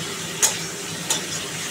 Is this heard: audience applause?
no